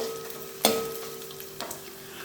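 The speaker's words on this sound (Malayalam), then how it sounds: "അപ്പോൾ ഇതൊരു ലൈറ്റ് ബ്രൗൺ കളർ ആകുന്നത് വരെ നമുക്ക് വഴറ്റിയെടുക്കാം." Small pieces of coconut sautéing in hot oil for beef fry, a soft steady sizzle with two brief louder stirring scrapes, close and alone.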